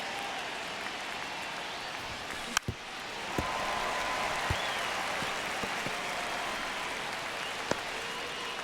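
A stadium crowd in the baseball video game MLB The Show 25 holds a steady roar of applause during a tense ninth inning at Boston, broken by a couple of sharp knocks.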